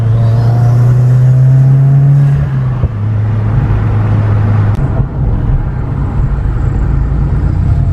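A Subaru WRX engine with a Stage 2 MAPerformance tune and catless exhaust hums loudly with a throaty intake roar, revving briefly and then easing into a steady drone.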